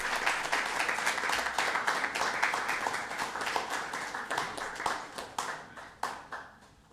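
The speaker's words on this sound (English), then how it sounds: "Please give him a round of applause." A small audience at a state board of education meeting claps for a retired school district award recipient, a dense round of hand claps that thins out and fades toward the end.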